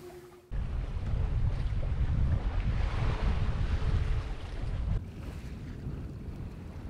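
Sailboat beating close-hauled upwind in the Bahía de Banderas toward Yelapa, with loud rushing wind noise buffeting the microphone and a low rumble of hull and water that drops off abruptly near the end.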